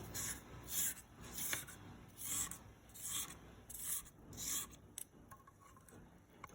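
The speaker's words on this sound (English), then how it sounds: "Make sure you scrape the bottom to make sure we got everything off the bottom" A spatula scraping 7 Up cake batter from the bottom of a mixing bowl, soft repeated rubbing strokes in a steady rhythm, close and faint.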